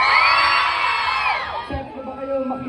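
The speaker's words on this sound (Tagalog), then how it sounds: "Saka po malaking sigawan dyan!" Crowd at a Cavite event, loud whooping, shouting and cheering that swells at first and then fades, leaving scattered yells and voices over the quieter tail.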